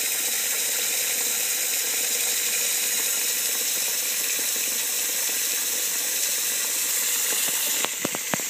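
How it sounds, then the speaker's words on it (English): Filtered water pours steadily over a plate, a loud, continuous hiss and splash that holds even throughout, with a few sharp clicks near the end. "And we're going to let the water go over."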